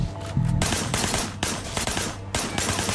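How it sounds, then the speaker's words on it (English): Rapid gunfire in the video game Sleeping Dogs, a shooter firing from a van's passenger window, crackles in loud repeated bursts of shots across a few seconds. "There was a shooter. Firing shots from the passenger window."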